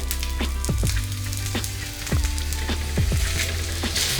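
Besan poli frying in oil on a pan gives a loud, constant sizzle under a low hum, with repeated descending squeaky chirps and light spatters recurring throughout.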